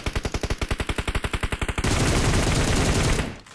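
Gunfire in PUBG Mobile on the Livik map: a rapid automatic burst of roughly sixteen evenly spaced shots, then a dense continuous roar of fire that fades out, loud and close.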